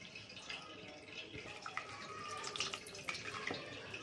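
Water dripping and trickling from set curd tied tightly in cloth as it is squeezed by hand for shrikhand, a soft, steady patter with a few sharper drips, close by and with no talk.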